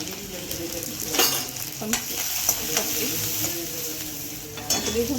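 Asafoetida dropped into hot oil tempering with garlic, green chilies and onion for Kathiawadi dhokli shaak, giving a steady near sizzle with brief crackling bursts and a few soft stirring clinks.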